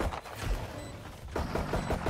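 Gunfire in a ranked match of a shooting video game: rapid rattling bursts of shots, loud and close, broken by a short lull before firing resumes.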